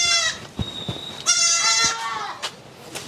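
Sirohi goats on a goat farm bleating in several overlapping calls, one long, loud, wavering bleat in the middle with shorter cries around it, close to the listener.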